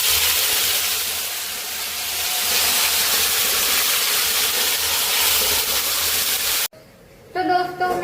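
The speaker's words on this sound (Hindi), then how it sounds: "एक तो ये अंडे बहुत आवाज कर रहे हैं यार" Eggs sizzling and crackling loudly in hot oil in a pan while cooking egg curry, a steady, dense hiss that cuts off abruptly near the end, followed by a brief clatter.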